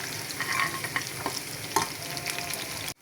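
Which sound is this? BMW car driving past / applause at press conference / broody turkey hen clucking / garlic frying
garlic frying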